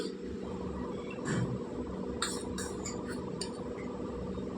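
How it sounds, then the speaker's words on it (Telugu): A spoon mixes onion chili paste with a soft, steady scraping and stirring, with a few light metallic clinks against the bowl and no voices. "ఇప్పుడు చెంచాతోటి కలుపుకుందాం"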